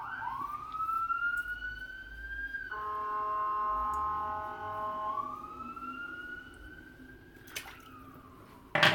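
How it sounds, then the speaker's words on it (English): City emergency vehicle sirens wail in the distance, one rising and falling tone sliding into a steady multi-tone blare before sweeping again, fairly faint with a sharp clatter at the end. "I'd love for these sirens to go away"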